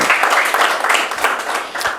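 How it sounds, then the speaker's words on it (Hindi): An audience at a Hindi-language organisational meeting gives loud, close applause, a thick wash of clapping with some pulsing and a few distinct claps near the end. "उनके लिए भी तालियां बजा दीजिए"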